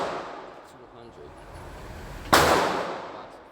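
A single sharp pistol shot from a Canik Mete MC9 Prime at a shooting range, loud and close, cracking out after a stretch of voices and then decaying.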